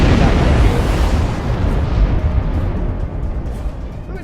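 Explosion in the space MMO Star Trek Online during a minefield-clearing mission, a loud, dense blast that roars at once and then slowly fades and rumbles down over a few seconds.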